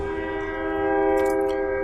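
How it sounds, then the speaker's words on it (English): A loud, sustained train horn from the video game Hearts of Iron IV: a steady, rich chord held for about two seconds, with a brief hiss near the end. "Hey, another train!"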